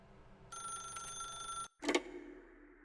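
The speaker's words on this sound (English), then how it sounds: "then pick up the phone" A telephone rings in the video game The Stanley Parable: Ultra Deluxe, one bright electronic trill lasting about a second, then a short click and rustle as the handset is picked up, fairly quiet and alone.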